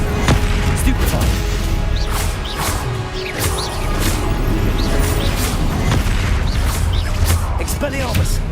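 Stupefy spells cast again and again in Hogwarts Legacy, with loud magical whooshes, booming impacts and crashes piled densely together in a constant, chaotic combat din, with a voice over it.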